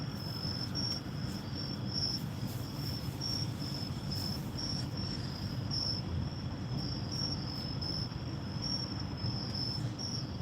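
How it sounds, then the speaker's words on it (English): Crickets chirp steadily through the night in a continuous, even trill, with a faint low rumble underneath and no voices. "I'm just gonna listen to the crickets."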